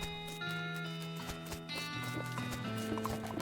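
Horse hooves clip-clop at a steady walking pace in the West of Loathing video game, soft and even, set over a sustained tonal game music bed.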